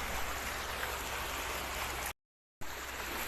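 River water flows steadily near Capas, Tarlac, a constant broad rushing hiss that cuts out briefly before resuming.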